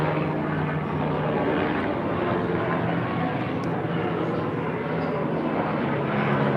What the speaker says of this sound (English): let the sheriff helicopter go by.